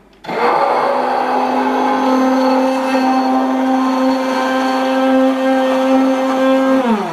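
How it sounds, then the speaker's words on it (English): A hand immersion blender buzzes at the bottom of a jar of egg yolk and oil for homemade mayonnaise, a loud steady motor whine that starts abruptly, holds an even pitch for about six seconds, then winds down. "put the hand blender all the way down into the bottom of the jar. Get the egg yolk under it. And then just start buzzing."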